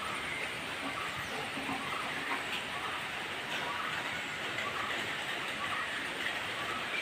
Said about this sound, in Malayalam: ഇവിടെ ഭയങ്കര നല്ല മഴയാണ്.